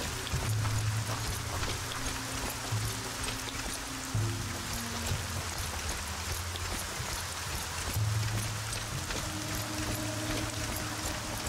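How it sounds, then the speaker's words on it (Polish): Steady rain patter on a surface, from the Arcania Gothic 4 game and real weather outside, forms a constant wet hiss throughout, with low game tones droning underneath. "w grze pada i u mnie też pada jeszcze grzmi"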